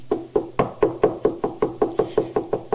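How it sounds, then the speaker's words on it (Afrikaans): Firm, evenly spaced knocking on a wooden door, about a dozen sharp raps in a steady rhythm, close and loud with no talking. "Die bondpyper klop weer."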